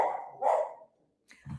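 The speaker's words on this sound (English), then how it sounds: "I don't know if you hear the dumb dog." An excited dog barks twice close by, a sharp bark followed by a shorter yip after a brief pause, with no talking over it.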